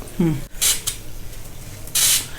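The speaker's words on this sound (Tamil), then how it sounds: "இந்த ஸ்ப்ரேயில் இது ஒரு அட்வான்டேஜ், அப்பப்போ கொஞ்சம் தெளிச்சு இந்த மாதிரி பிடிச்சிக்கலாம்." Short hissing sprays of water from a spray bottle, a couple of quick bursts followed by a longer spritz, close by.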